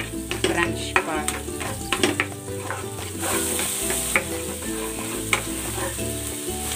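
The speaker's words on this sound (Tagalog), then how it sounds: "Igigisa ko na tong sibuyas" Chopped onions sautéing in margarine in a pan, a steady close sizzle and crackle with occasional stirring clinks of a utensil against the pan.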